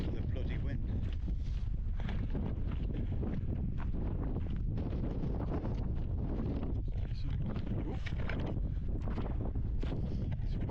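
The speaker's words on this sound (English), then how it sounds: "You probably can't hear me because of the bloody wind." Strong wind buffets a rocky hilltop on the Edale Skyline, roaring steadily and loud across the microphone with no let-up, while a voice talks under it.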